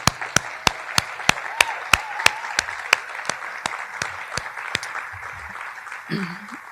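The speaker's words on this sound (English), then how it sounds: "And let's give another round of applause to our amazing performers just now." Audience at a Martin Luther King Jr. Day celebration applauding performers: a light, evenly paced series of sharp, close claps keeps a steady beat over a faint crowd background, fading out as a voice speaks briefly at the end.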